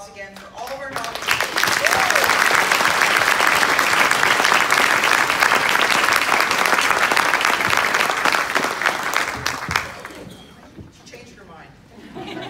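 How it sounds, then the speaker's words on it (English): An award ceremony audience applauds the nominees for an ED leadership award. Clapping swells quickly after a brief opening, holds full and loud for several seconds with faint chatter mixed in, then thins and fades near the end. "Can we have a round of applause again for all of our nominees?"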